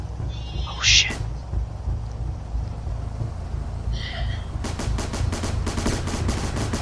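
Bursts of automatic gunfire rattle in a combat video game, in a sharp run of rapid shots near the end over a low, steady rumble, with a couple of brief higher sounds earlier.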